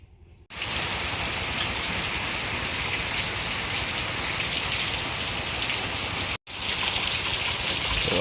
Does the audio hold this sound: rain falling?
yes